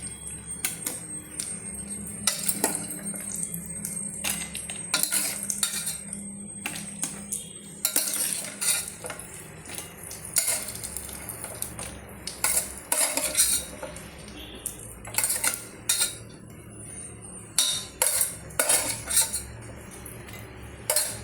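Chickpea payasam mixture scooped from a pan, with repeated metal spoon clinks and scrapes against the vessel over a soft background sizzle, close and irregular without talk.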